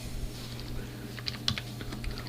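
Light, scattered keystrokes on a computer keyboard in TempleOS, quiet irregular clicks over a faint steady hum.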